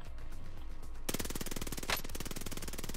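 Rapid automatic gunfire in a shooter video game, a dense string of evenly spaced shots that starts abruptly after a second of quieter background and hammers on loudly to the end, with no talking.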